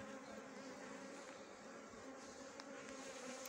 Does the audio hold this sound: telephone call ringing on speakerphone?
no